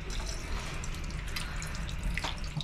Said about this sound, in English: the water was working fine